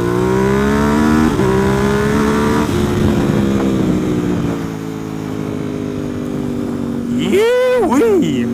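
A Ducati SuperSport S sport motorcycle accelerates hard up close, its engine note climbing through the gears with brief dips at each shift, loud and steady throughout.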